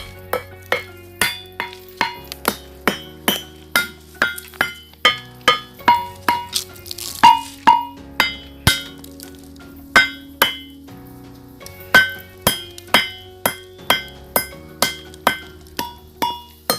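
Rusty musical rocks struck with a piece of iron ring out in a long sequence of bright, bell-like tones, each strike decaying before the next in an even, melodic rhythm.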